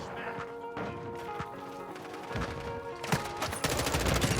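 Rapid M4 rifle fire in the video game Call of Duty: dense, fast bursts of shots building louder toward the end, with a person talking over them.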